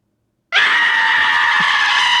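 A loud yelling scream sound effect, triggered as a stream redeem, bursts in abruptly after silence and holds at a steady, piercing level to the end.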